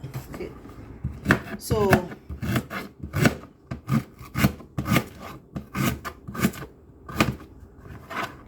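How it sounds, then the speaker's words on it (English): A knife chops fresh ginger on a board into smaller pieces in a home kitchen, giving a steady series of sharp, close taps, with someone speaking briefly. "I'm going to chop all the ginger until it's done."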